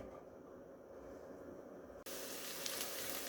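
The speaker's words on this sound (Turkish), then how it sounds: "Ocağıma aldığım tavaya 3-4 yemek kaşığı kadar zeytinyağı alıp ardından doğramış olduğum soğanı ekleyelim." Chopped onion frying in olive oil in a pan on a stovetop, a steady soft sizzle that jumps sharply louder partway through and stays bright and hissing to the end, with no voices.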